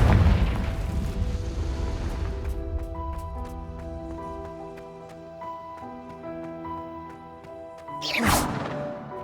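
A Confringo blasting spell in Hogwarts Legacy sets off a loud booming burst, followed by ringing magical chimes and tones, then a second sharp whooshing crash near the end.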